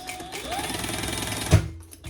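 A sewing machine stitches a 1/4 inch seam on a crossbody bag, with a steady close mechanical whir running for about two seconds, one brief thump near the end and then a stop.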